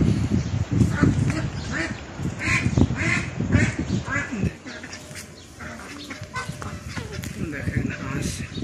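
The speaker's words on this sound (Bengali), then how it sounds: "এখানে দেশি হাঁস আছে, রাধা হাঁস আছে" Native desi and Radha ducks on a small farm quack repeatedly in close, overlapping bursts, while a person talks over them throughout.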